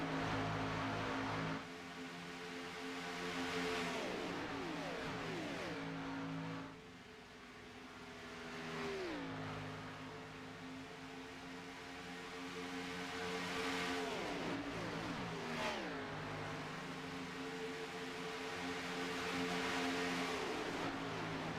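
Race cars lapping Daytona International Speedway, a steady roar of several engines with pitch sweeps as cars shift and pass, continuous and fairly loud throughout the run with no voices.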